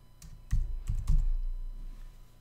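A few keys are tapped on a computer keyboard while entering a class name in a WordPress theme's settings, a brief cluster of soft, close clicks followed by a faint low hum.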